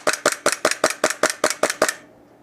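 A KSC Glock 19 gas blowback airsoft pistol fires about ten sharp, evenly spaced cracking shots in quick succession, close and loud, then stops and leaves near silence.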